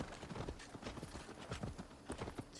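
Horse hooves clip-clop at a steady trot in the Assassin's Creed Valhalla video game, a quiet, continuous rhythmic patter over faint background ambience.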